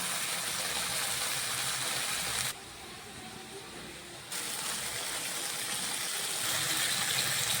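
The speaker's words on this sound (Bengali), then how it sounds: "সামান্য জল দিয়ে দিলাম।" Water gushes steadily into a pan of peas, a broad close hiss with a brief drop in the middle before the flow resumes, alone with no talk.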